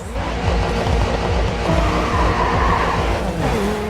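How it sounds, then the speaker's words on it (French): Car tires skidding through a drift in the racing game GRID 2, a steady screeching slide over a loud, rough engine drone that runs on without a break, close and with no talk. "joli dérapage"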